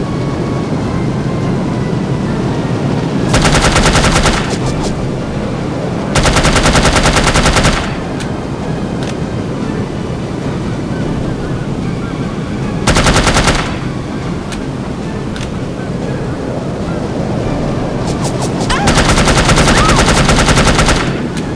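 Several loud bursts of machine-gun fire in No One Lives Forever, each lasting a second or two, spaced apart over a steady roaring drone like an aircraft engine.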